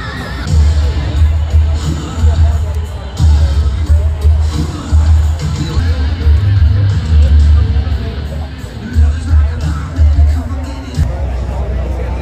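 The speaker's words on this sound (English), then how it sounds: "I'm estimating this is like Rockville-sized crowds here today" Large crowd gathered outdoors at the Daytona Bike Week Burning Bike event before the lighting of a giant wooden motorcycle, a steady dense hubbub of many voices with bursts of louder cheering and low rumbling throughout.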